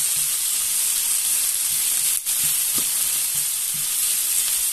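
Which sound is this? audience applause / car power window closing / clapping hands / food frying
food frying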